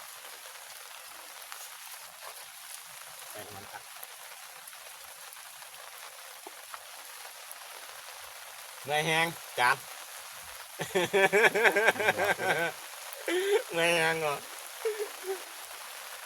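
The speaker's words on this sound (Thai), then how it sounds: "ฝนตกก็บ่ได้อยู่เนาะ" Steady rain falls outdoors at a rural woodworking spot, a constant soft hiss throughout, with someone talking over it in the later part.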